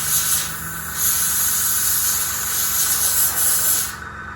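Tamiya lacquer paint sprayed from a close-up can or airbrush while painting a 1/200 scale model ship, a continuous loud hissing spray with slight pulsing swells, stopping near the end.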